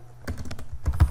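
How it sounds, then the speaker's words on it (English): Brief burst of close typing on a computer keyboard, a quick run of soft key clicks ending in a couple of heavier thumps. "You have to type"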